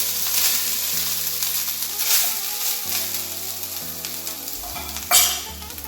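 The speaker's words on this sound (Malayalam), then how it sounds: "എണ്ണ ചൂടായിട്ടുണ്ട്, നമുക്ക് ഈ തേങ്ങ ഇതിലേക്കിട്ട് വറുത്തെടുക്കാം" Grated coconut fries in hot oil in a pan for a Kerala brinjal curry, giving a steady close sizzle with stirring scrapes and a brief louder burst near the end.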